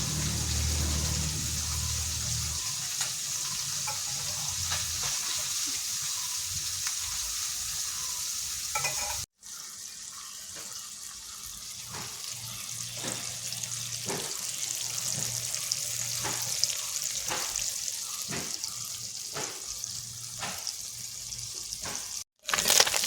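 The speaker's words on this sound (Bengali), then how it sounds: "মাছগুলো এবার আমি লাল লাল করে ভেজে নেব।" Small mourola fish fry in a pan of hot oil with a steady, continuous sizzle, stirred now and then with faint scraping clicks; close and fairly loud, with no talking.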